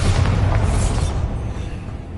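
Bombarda explosion spell in Hogwarts Legacy, a loud, heavy boom with a deep low rumble that gradually fades over about two seconds, alone with no talk.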